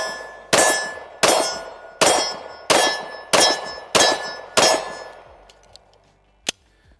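Seven loud, evenly spaced pistol shots ring out at close range from a Walther and a Canik Elite Combat. Each report has a sharp attack and a short ringing tail. A fainter metallic click follows after a pause.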